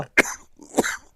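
An elderly man gives two close, harsh coughs in quick succession, loud and dry, with no other sound around them.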